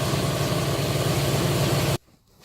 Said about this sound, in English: all of a sudden a big goofy compressor turns on